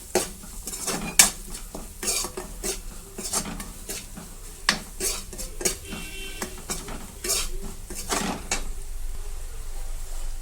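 A spatula stirs egg fried rice seasoned with chilli powder in a metal pan, giving repeated scraping and clinking strokes in an uneven rhythm, close and fairly loud, with a soft sizzle underneath.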